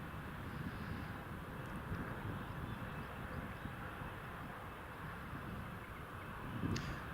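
An EasyJet airliner approaches to land on runway 07 at Newcastle International Airport in the rain. Its engine roar is a steady, broad, distant rumble mixed with wind, and no one speaks over it.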